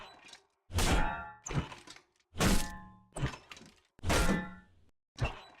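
The Global Axe pickaxe in Fortnite gives repeated heavy swing-and-impact hits, several thunking cracks with a brittle breaking texture, spaced roughly a second apart with short pauses between them.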